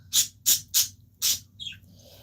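A pet bird in a room gives four sharp, loud squawks in a steady rhythm, then lets out a couple of softer chirps, close to the listener, with no voices.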